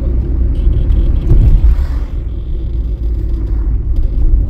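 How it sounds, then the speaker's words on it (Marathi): Slow-moving road traffic in a jam near Mangaon, heard from inside a vehicle: a loud, continuous low engine and road rumble that swells and eases as cars creep forward, with no voices. "मानगावला थोडासा ट्रॅफिक आहे."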